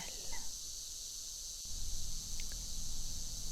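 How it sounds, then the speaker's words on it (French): Cicadas sing in Provence, a steady, shrill, continuous buzzing drone heard from a distance over a faint rustling background, with a soft thump partway through. "Le chant régulier des cigales, ce son qui berce, rassure et s'installe."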